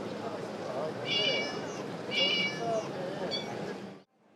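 A robot at a technology exhibition imitates a cat, giving two or three short synthetic meows over a steady murmur of crowd noise, each call clear and close.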